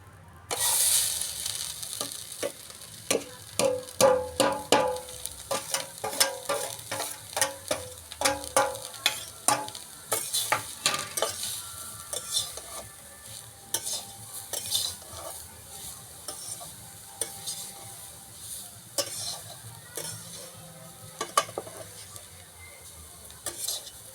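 Grated carrots fry with bay leaves in a pan for carrot payesh, giving a continuous sizzle under frequent close clinks and scrapes of a spoon stirring against metal.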